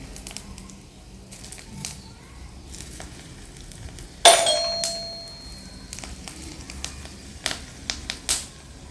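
Fennel seeds, cloves and pepper crackling in hot oil for mango pickle, a soft steady sizzle with scattered pops and a sharp metallic clink partway through.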